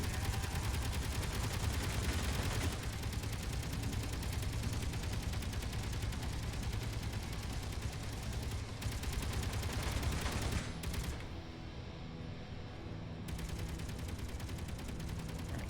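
Sustained gunfire rattles nonstop while shooting underside guns in the Escape From Mars video game, a dense, loud, rapid stream of shots that thins slightly toward the end.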